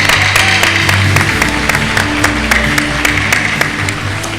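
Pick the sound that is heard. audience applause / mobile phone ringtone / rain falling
audience applause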